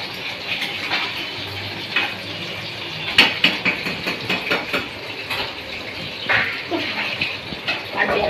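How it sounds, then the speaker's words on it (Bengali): Dishes being scrubbed and rinsed in a home kitchen on a hot day, with plates and pots clinking and scraping in irregular bursts over steady running tap water, close and moderately loud. "এই দেখো বাসন করে নিয়ে তারপরে মাজবো বাসন"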